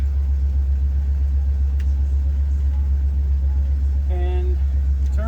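A 1941 Plymouth engine idles roughly, needing a tune-up, with a loud, steady low rumble close by and a brief tonal sound near the end.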